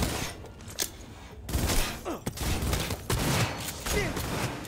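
Gunfire in the video game Cyberpunk, dense bursts of automatic shots and loud fusillades crackling close and continuous with little pause.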